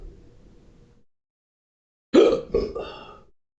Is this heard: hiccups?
yes